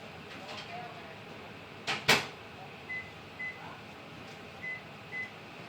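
A microwave melting butter in a home kitchen: a door thunks shut with a clatter, then several short, evenly spaced electronic beeps ring out over a low background hum.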